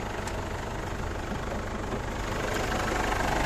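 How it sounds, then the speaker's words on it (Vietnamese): A Ford Ranger XLT 2.5-litre diesel pickup engine idling, with an original and unmodified engine, heard as a steady, dense mechanical rumble with faint knock, continuous and close, with no talking. "Đây là máy của chiếc xe"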